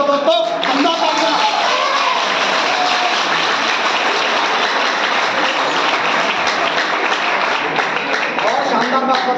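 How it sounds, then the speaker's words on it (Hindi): Loud, sustained applause from a crowd at a speech at a farm house, steady dense clapping with voices mixed in throughout. "तालियां दमदार बजा दो दोस्तों, दमदार तालियां"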